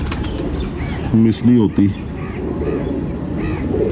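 Pigeons flap their wings in a few short bursts close by, with soft coos and bird calls mixed in, while someone talks over them.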